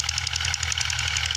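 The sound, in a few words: tractor engine working a field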